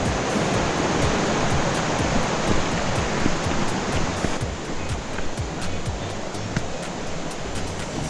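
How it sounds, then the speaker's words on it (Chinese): Yuanjue waterfall beside a hiking trail, swollen and muddy after rain, a loud, steady roar of rushing water that fills the whole scene without break, with no voices. "圆觉瀑布。"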